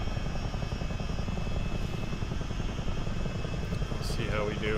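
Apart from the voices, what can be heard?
CH-47D helicopter engine in a flight simulator video game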